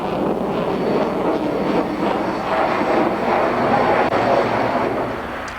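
Harrier jet flying at the 1989 Paris Air Show: a steady, loud broadband jet roar that holds throughout with no talk, easing slightly at the end.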